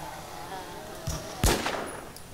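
Gunshots in the zombie game War Z: a faint thud, then one sharper, louder close shot with a short tail, over quiet background hum.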